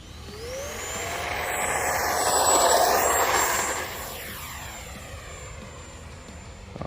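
A small FMS 64mm Dassault Rafale electric ducted-fan RC jet takes off from a parking lot, its high whine rising and swelling as it passes close, then fading and shifting in pitch as it climbs away.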